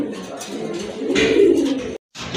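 Domestic pigeons coo loudly and close by, a pair kept for sale among fancy breeds, with a continuous throaty rolling call that cuts off briefly just before the end and then resumes.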